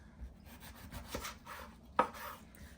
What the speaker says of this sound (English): I am going to cut some lemon wedges to go along with our beautiful roasted garlic